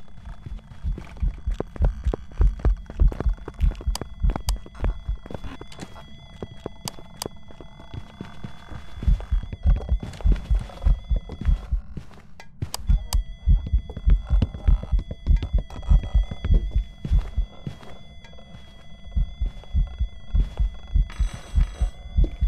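Rapid, heavy thudding footsteps of the Revenant ghost in the game Phasmophobia pound in quick rhythmic bursts, with a ringing electronic tone and crackling interference layered over them.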